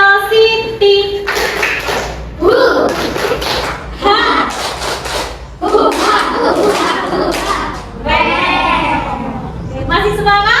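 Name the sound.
group clapping chant (tepuk semangat)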